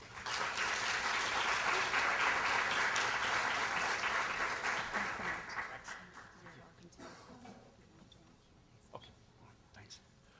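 An audience applauds to welcome author Fred Pearce, dense steady clapping that holds loud for about five seconds, then thins to scattered claps and fades to quiet.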